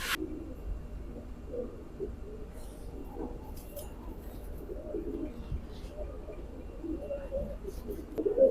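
Soft, low cooing from a pair of dub-tailed kamagar pigeons, faint repeated coos over a quiet background hum, with occasional faint chirps.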